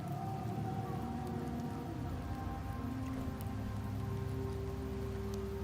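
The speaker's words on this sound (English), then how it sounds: "The rains in Septimont never seem eager to leave this season." Steady rain falls in the Septimont area of the video game Wuthering Waves, a continuous soft hiss layered over low ambient game music with sustained tones, no voices.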